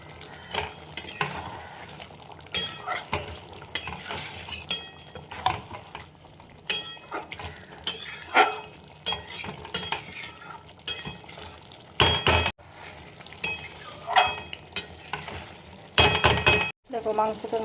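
Chicken curry being stir-fried in a pan, with a spatula scraping and clinking against the metal in irregular bursts over a soft sizzle, close and fairly quiet, with no voices.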